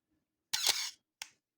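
A single mechanical shutter click from a film camera, crisp and close, with a short second snap right after it, in silence.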